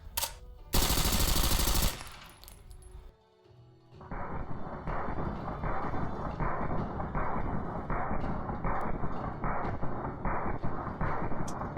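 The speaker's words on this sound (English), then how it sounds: "what we are using is an MP5 with a suppressor, firing subsonics." A suppressed MP5 firing subsonic rounds at ballistic dummies outdoors. After a loud blast near the start and a short lull, it fires a steady rapid string of muffled shots with an even rhythm at close range.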